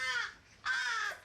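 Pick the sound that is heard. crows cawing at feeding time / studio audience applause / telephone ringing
crows cawing at feeding time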